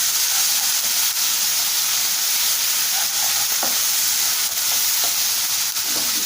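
Onions with a spoonful of ginger garlic paste fry in oil for a tomato methi curry, giving a steady, close sizzling hiss with a few soft stirring clicks and no voices.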